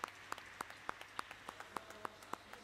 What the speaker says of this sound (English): Round of applause for Ingrid.